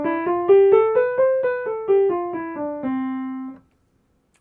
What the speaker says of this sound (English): Major scale sounds like this.